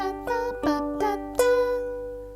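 The bottom three strings of a guitar plucked one after another, then a final louder pluck, each sustaining and slowly fading; no talking.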